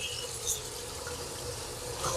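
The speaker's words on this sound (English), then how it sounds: "I'm going to also just kind of run it under the water and rub the leaves just a little gently." Running tap water pours steadily over fresh basil leaves as they are gently rubbed and rinsed, a continuous close splashing hiss with no talk.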